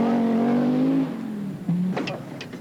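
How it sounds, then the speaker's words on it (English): A four-wheel-drive Audi Quattro rally car's engine runs rough and misfires, with a steady loud drone that drops in pitch and stutters before a couple of sharp pops near the end. "Wiedner's car misfiring there"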